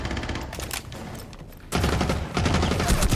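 Rapid bursts of gunfire from a video game shooter during a ranked match, loud and close, with a lull around the middle before heavier volleys return, and no talk over it.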